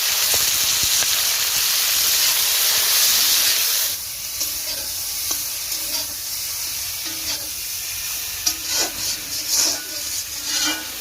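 Chopped tomatoes fry in a pan with a loud, steady sizzling hiss that drops off partway through, leaving softer crackles and occasional scraping stirs nearby.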